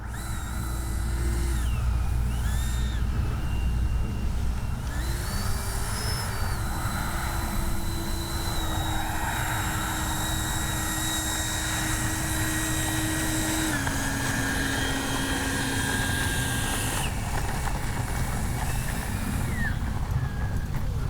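A Freewing 70mm electric ducted-fan F9F-5 Panther RC jet whines steadily overhead for about twenty seconds, its pitch rising and falling as it banks and passes, with constant wind and field noise underneath.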